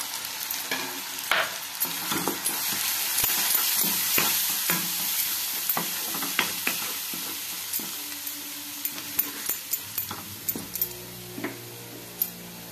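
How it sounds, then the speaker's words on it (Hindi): A spice masala fries in a pan while being stirred, making a continuous hiss with frequent ticking and scraping from the spoon against the metal. No one speaks. "तापरे बाटी रखिथिबा मसला को देई भल भाबरे कसी नबा।"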